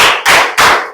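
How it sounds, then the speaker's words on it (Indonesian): Two sharp, loud hand claps land in a steady counted rhythm, close by, with no voices over them. "Tepuk 1, tepuk 2, tepuk 3, tepuk 4,"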